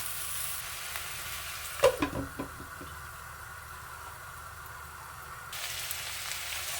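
Pork belly sautés in a pan as its fat renders, a steady low sizzle running throughout, broken by a short cluster of spoon-against-pan knocks and stirring near the start.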